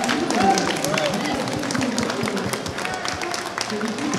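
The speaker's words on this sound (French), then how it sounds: "on peut applaudir nos gagnants" Tournament winners of an Overwatch esports final at an awards ceremony get applause from the audience, a dense wash of clapping mixed with crowd murmur and a voice over it.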